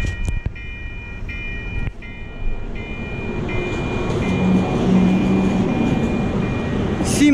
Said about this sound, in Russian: Siemens поезд.